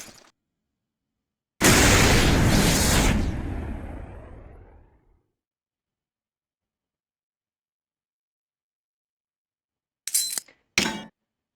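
A flash grenade from the video game Soldier of Fortune II goes off as one loud, broad blast that rings out and fades over about three seconds, followed much later by two short, sharp clicks or clinks.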